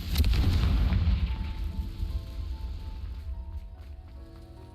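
A deep, booming blast from the Confringo spell in Hogwarts Legacy hits loud at once, then rumbles and fades over a few seconds, with no talking over it.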